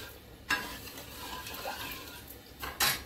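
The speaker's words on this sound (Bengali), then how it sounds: "নাড়ি এই চিনিটা একটু গলুক।" A spoon scrapes and stirs sugar melting in a pan while making carrot sandesh, with a soft sizzle underneath and a couple of sharper scrapes near the start and end.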